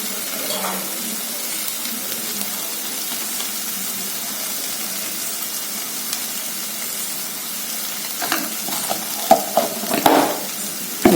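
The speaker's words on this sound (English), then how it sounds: "Give it a nice mix." Chole spices sizzle and fry in a pan while being stirred, a steady soft hiss with scraping stir strokes growing louder and more frequent toward the end, heard alone.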